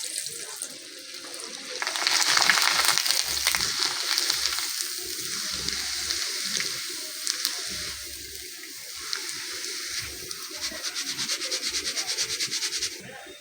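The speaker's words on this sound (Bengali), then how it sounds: "তাহলে বন্ধুরা আমি এই ছাঁকনিতে করে ভেজে নিচ্ছি চালটাকে" Rice fries in hot oil in a strainer with a loud, steady sizzling hiss. Dense crackling swells after the first couple of seconds and carries on until the end, with no voices.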